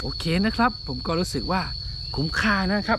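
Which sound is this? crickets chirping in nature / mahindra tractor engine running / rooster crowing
crickets chirping in nature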